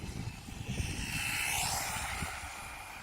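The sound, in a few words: Absima AB3.4 RC car at full throttle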